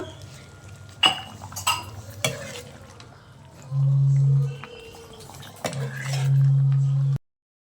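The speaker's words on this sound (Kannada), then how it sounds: "ಪ್ಲೇಟ್ ಮುಚ್ಚಿ ಒಂದು 10 ನಿಮಿಷ ಚೆನ್ನಾಗಿ ಬೇಯಲಿ ಎಲ್ಲ." A metal plate clinks and scrapes as it is set over a pot of green chilli chicken, with a few sharp utensil knocks followed by a sustained low hum from the cookware and stove.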